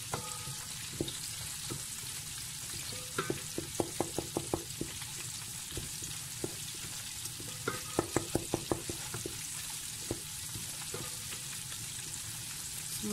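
Homemade KFC-style fried chicken browning in hot oil: a steady, close sizzle dotted with sharp crackles and pops that cluster in bursts, with no talking.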